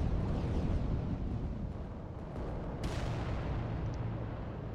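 Heavy Titan weapons from the Warhammer strategy game Adeptus Titanicus: Dominus fire in a dense, continuous rumble of distant booms, with a sharper blast cutting through near the end.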